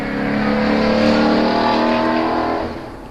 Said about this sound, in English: Sorry, loud cars.